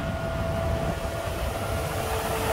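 A used car's engine idling with the radiator fans running because the AC has switched on, giving a steady, even rumble and whir with no talk.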